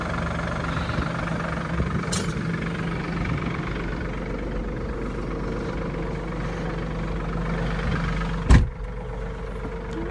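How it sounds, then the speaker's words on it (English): A tractor engine idles steadily nearby with a low rumbling drone, and a single sharp knock or clunk sounds near the end. "This is the same tractor that he used to feed hay the other day that we rode around in."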